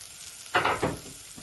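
Garlic hits a hot pan while making vegetarian chili sin carne, giving a sudden short burst of sizzle and a second smaller hiss, close and brief.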